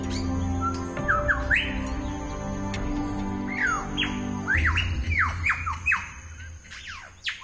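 A male superb lyrebird in Australian forest mimics other birds' calls, a rapid series of loud whistles, squawks and chirps close by, with no talk.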